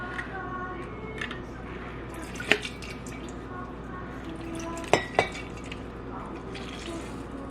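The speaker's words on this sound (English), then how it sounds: "And then I use a little lemon citrus juicer like this," Half a lemon is squeezed on a small citrus juicer: a few sharp clinks and clicks of the juicer against a glass, with faint drips of juice over a low steady room hum.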